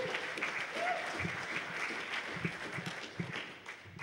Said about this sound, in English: let's give a big a round of applause for Chris